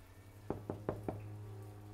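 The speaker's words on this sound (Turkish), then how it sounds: "Kapı da çalıyor ya." Four evenly spaced knocks on a wooden door in the video game Vampyr, sharp and distinct over a low steady background hum, then quiet.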